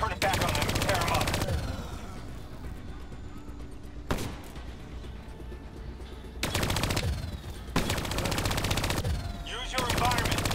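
A hijacked turret's machine gun in Call of Duty: Black Ops III fires several loud sustained bursts, rapid rattling volleys separated by short pauses, with a single sharp shot between them and game-effect rumble underneath.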